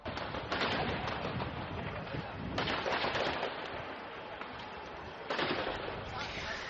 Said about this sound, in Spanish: sonidos de tiros, de tiroteos